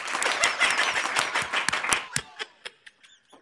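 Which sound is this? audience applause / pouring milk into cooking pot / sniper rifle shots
audience applause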